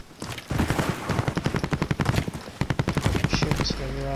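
Automatic gunfire in the video game Warzone, rapid loud bursts of shots close by in quick rhythmic strings, ending in a short tonal game sound.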